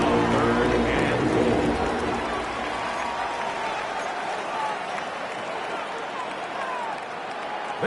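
Football stadium crowd at a Bills preseason game roaring before a third down near the goal line, a loud sustained wash of cheering that gradually eases, with talk over it.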